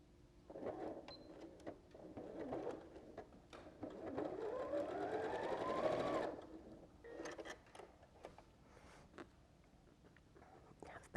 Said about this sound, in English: just sew it to the background with a scant 5mm seam allowance.